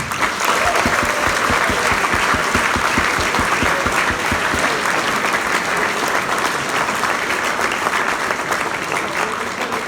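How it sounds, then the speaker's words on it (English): An audience at a school leavers' breakfast applauds the head prefect, a dense, loud, sustained clapping that holds steady for the whole stretch with only slight fading near the end. "So a round of applause for George."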